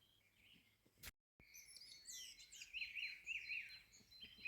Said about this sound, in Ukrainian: Друзі, ви тільки послухайте, як співають пташки.